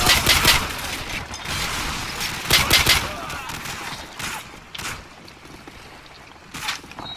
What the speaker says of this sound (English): Oh shit, they shot him!